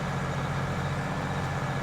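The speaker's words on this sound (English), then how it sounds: "9620R. It's a articulating tractor." John Deere 9620R articulated tractor in Farming Simulator 22, its engine giving a steady, loud low diesel drone with an even rumble and no break, alone.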